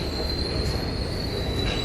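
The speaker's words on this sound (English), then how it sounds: "granted, the train just left" A subway train pulls out of Park Place station in Manhattan, with a steady, loud rumble and a thin high squeal of wheels on rail running throughout, close by and alone without talk.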